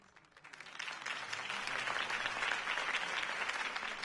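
Crowd applause in the video game Batman: The Telltale Series, rising from a soft start into steady, dense clapping from a large gathering that holds at full strength without a voice over it.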